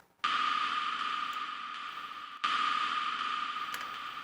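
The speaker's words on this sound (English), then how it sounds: "So at the beginning we have this thing that I just have labeled anvil hit." Anvil-hit percussion sample drenched in huge reverb, struck twice about two seconds apart, each strike a bright metallic ring that blooms into a long, washy tail, clean and with no voices.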